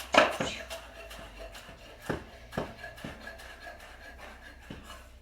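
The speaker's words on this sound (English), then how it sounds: "going to cut up my lettuce pieces nice and thin" A knife chops lettuce into thin slices on a board, giving a handful of sharp, close taps at an uneven pace, with one louder strike at the start and no talking.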